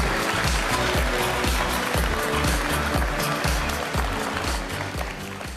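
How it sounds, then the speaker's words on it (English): Audience applause for Dr. Vince Kellen at the Cisco Live 2025 conference in San Diego, a dense, continuous wash of clapping that holds steady at full strength and tapers slightly near the end. "Big applause, Dr. Vince Kellen."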